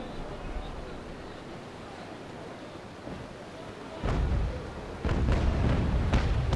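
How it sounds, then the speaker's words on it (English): A broadside of cannon fire from a sailing warship in the naval combat game Naval Action, heard as a couple of heavy booming blasts over a steady rumble of wind and sea. "I just fired a broadside into her"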